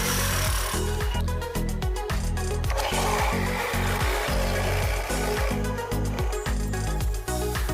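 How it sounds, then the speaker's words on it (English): A drill press motor hums loudly and steadily as the bit bores into wood in repeated short pulses, with grinding and chips crackling close by. "And then filling some more holes over at the drill press."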